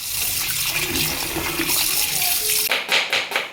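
Water runs steadily from a tap while raw chicken, part of three kilos bought for a chicken dum biryani, is washed, a loud close rush with splashing bursts near the end.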